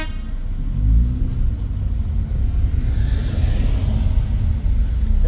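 Heavy car traffic rumbles steadily at a railway level crossing outside a town on a weekend, a dense low engine drone with a faint horn toot early on, no voices.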